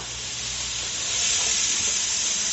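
Chopped vegetables hitting hot oil in the bottom of a pot for Cajun meat, rice and gravy give a steady, loud broadband sizzle that swells slightly and holds without pause, with no talking.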